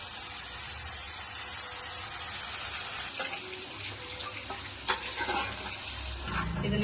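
Mashed potato stuffing for aloo paratha being stirred and mixed in a pan, a steady scraping and stirring texture with a faint sizzle underneath, a sharper clack near the end, no talking.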